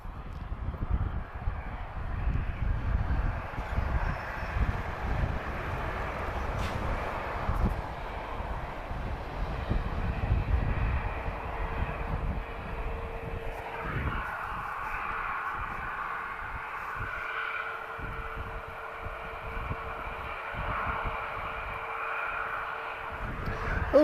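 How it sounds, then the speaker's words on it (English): An Airbus A321neo long range jet takes off at Lisbon, a steady broadband engine roar that builds and holds for the whole stretch, with a faint tonal whine rising out of the rumble midway, heard from the ground some distance off. "So A321 Neo, long range, guys. So she's off to New York."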